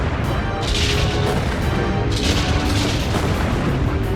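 Video game artillery fire, a sustained roar of close, loud booms and crashing blasts that swells and rolls across several seconds, with no talking.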